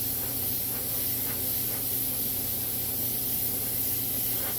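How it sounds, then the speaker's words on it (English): An airbrush sprays paint onto a ball with a steady, close, unbroken hiss of air, and no one speaks. "So we're just basically going to kind of spray the ball."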